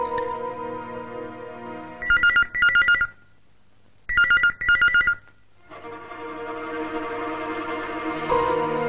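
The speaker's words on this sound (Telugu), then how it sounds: "ఆఫీస్ లో ఫోన్ రింగ్ అవుతుంది, ఎవరు ఎత్తడం లేదు." An office telephone rings unanswered in two double bursts separated by a pause, loud and clear, with a sustained musical tone before and after.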